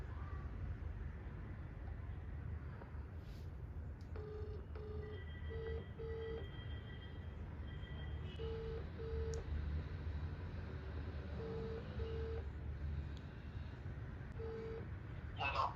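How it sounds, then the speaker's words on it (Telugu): Mobile phone call being placed, with a steady series of short dial or ringback tones repeating at intervals over a constant low background hum, fairly faint, with no talk. "ఇప్పుడు కాల్ చేసి ఎక్కడికి రమ్మంటాడో లేకుంటే ఆయన ఎక్కడికి వస్తుందో కనుక్కుందాం. కాల్ చేద్దాం ఒకసారి."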